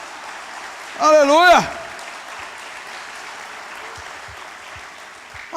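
A church congregation applauds through the whole stretch, a steady wash of clapping behind a loud, sung shout of praise near the start.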